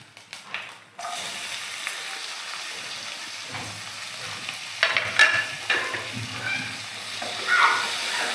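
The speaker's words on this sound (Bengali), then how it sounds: "ফোড়নটা কিছুটা লাল হয়ে যায়, ও দিয়ে দেবো পেঁয়াজ কুচি," Chopped onion and slit green chilies hit hot oil over tempering spices, giving a steady close sizzle with stirring scrapes and occasional crackling pops, alone without talk.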